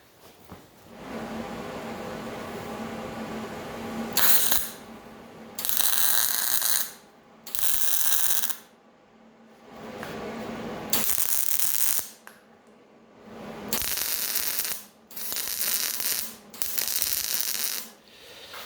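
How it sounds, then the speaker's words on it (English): Arc welding a nut onto a homemade campfire grill, a loud crackling hiss sounding in several bursts of one to three seconds each, separated by short pauses. "I'm going to position that there like so and weld that nut right to that there"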